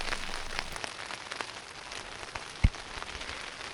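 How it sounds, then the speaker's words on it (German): Heavy rain patters on a tent high in the Tien Shan mountains of Kyrgyzstan, a dense hiss of drops tapping the fabric with one sharper thump partway through; no talking. "es hat gerade angefangen hier so stark zu regnen"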